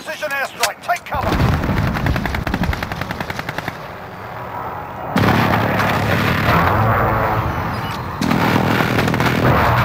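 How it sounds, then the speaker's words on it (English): A precision airstrike in Call of Duty Modern Warfare (2019): heavy, sustained rumbling barrages of explosions and rapid fire roll on loudly in long waves, with brief drops in intensity between them. "Enemy precision airstrike. Take cover."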